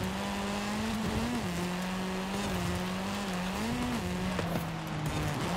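A car slides sideways through an e-brake drift in a Japanese-car racing video game on the North Crater track, its engine holding a steady, loud drone with slight pitch dips and faint tire noise throughout.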